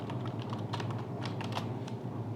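Computer keys are typed at close range in a quiet room while entering data in Tally ERP9 accounting software, with irregular light clicks arriving in quick bursts and no talk over them.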